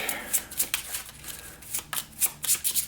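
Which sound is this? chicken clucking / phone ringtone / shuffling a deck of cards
shuffling a deck of cards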